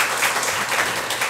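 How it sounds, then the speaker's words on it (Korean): A church congregation claps during a Sunday worship service to welcome a newly registered member, a brief, even wash of applause at moderate loudness with no speech over it. "우리 박수로 환영하겠습니다"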